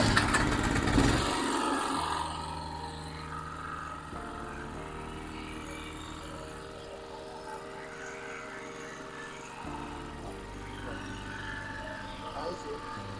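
A rebuilt generator engine runs at a steady idle with a throbbing mechanical hum after a louder start, with talk heard over it in places.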